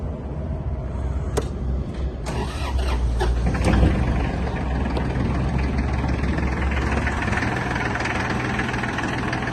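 A Japanese Iseki TK25 tractor gives a few sharp clicks, cranks over and catches, then settles into a steady, close, rumbling diesel idle that runs to the end with no talking.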